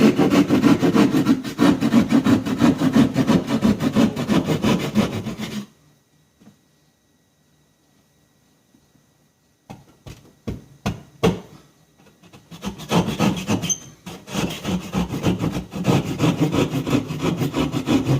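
Hand saw cutting an opening in a wall for an electrical outlet box, a loud, close, rasping back-and-forth sawing that stops into near silence, then a few sharp knocks before the sawing resumes.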